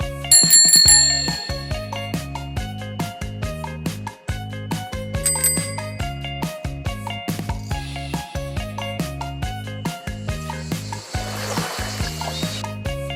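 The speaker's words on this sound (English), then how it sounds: "Bicycle." A bicycle bell rings out in bright, repeated dings against a steady background of music, the metallic strikes coming in a few quick clusters and standing out loud and close.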